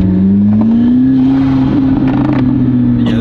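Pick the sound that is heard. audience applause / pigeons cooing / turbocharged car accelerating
turbocharged car accelerating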